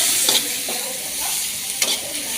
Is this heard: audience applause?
no